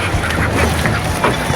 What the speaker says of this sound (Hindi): देखिए हमारी नाव पे चिड़िया आके बैठ रही हैं।